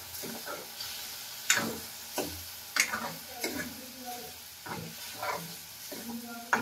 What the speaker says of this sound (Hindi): कम गैस में साबुदाना घी में थोड़ी देर पकाएंगे